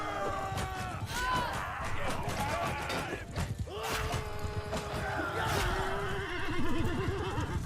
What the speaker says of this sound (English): Sorry, horsey. Didn't mean to slaughter you.